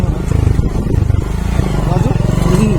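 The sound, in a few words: motorcycle on an off-road ride in Nepal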